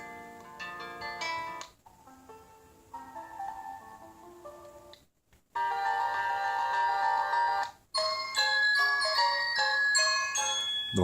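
A YU FLY F8 smartphone plays a melodic ringtone, bright tonal notes in phrases broken by short pauses, clear and close with no talk.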